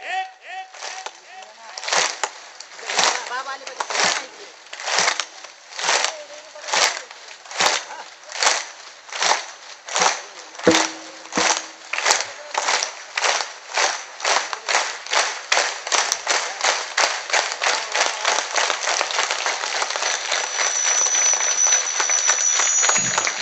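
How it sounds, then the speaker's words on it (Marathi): A crowd at a devotional religious gathering claps in unison, starting with evenly spaced loud claps that speed up steadily into rapid, continuous clapping. "एक टाळी वाजवा."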